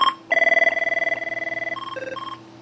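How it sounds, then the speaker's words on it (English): An Avaya IP Office desk phone rings with a rapid warbling electronic trill, loud and close, changing pitch partway through before cutting off. "it controls the ringer volume."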